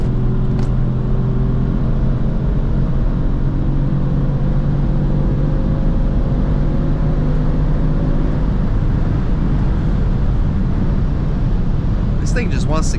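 A 2018 Kia Stinger GT accelerates at full throttle on a late-night drive, heard from inside the cabin as a loud, steady engine drone with a rising pitch and heavy road roar.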